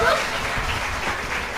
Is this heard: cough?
no